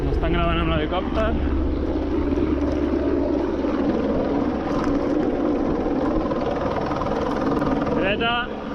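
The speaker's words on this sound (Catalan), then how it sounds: "Ens estan gravant amb l'helicòpter." Helicopter flying overhead during a tandem enduro mountain-bike descent on rocky trail, a steady loud rotor and engine drone running throughout beneath wind noise and a rider calling out directions.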